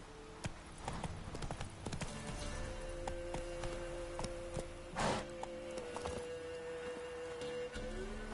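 Horse hooves clip-clop steadily at a gallop on a dirt road in The Witcher 3, fairly faint under a low ambient bed, with one brief louder thump midway.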